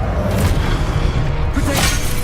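Incendio fire spell cast in the video game Hogwarts Legacy, a loud, close, roaring whoosh of flame sustained for about two seconds with no voice over it.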